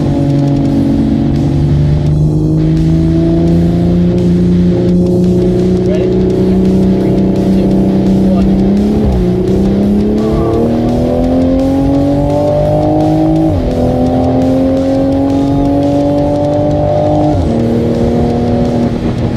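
A BMW car being driven hard in street racing, its engine droning loudly and steadily with gear-change dips and rising revs throughout, close and continuous, while a person talks over it.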